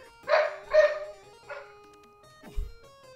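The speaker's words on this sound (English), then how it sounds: "Meanwhile, I'm hearing a dog barking." A dog barks three times in quick succession, fairly close, followed by a shorter yip and a low thump near the end.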